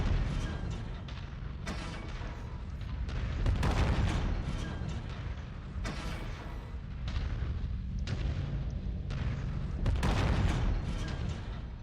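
Mech autocannon fire in MechWarrior 5, a run of heavy booming shots in quick succession that overlap into a continuous loud rumble with sharp repeated blasts.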